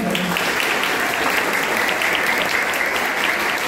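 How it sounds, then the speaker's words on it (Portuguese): An audience claps in dense, steady applause at a school project event, loud and continuous throughout. "Quero uma salva de palmas para ele."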